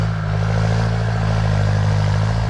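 A Kubota M8808 tractor clearing fallen trees after a windstorm holds a loud, steady engine drone with a clattering edge. It runs close and unbroken throughout, with no voices.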